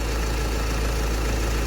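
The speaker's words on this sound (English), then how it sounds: "when you spray the aerosol, the revs fluctuate, and that's completely normal" A BMW 1 Series diesel engine idles steadily while an EGR cleaning aerosol is sprayed in, a loud continuous low rumble with a dense, even drone throughout.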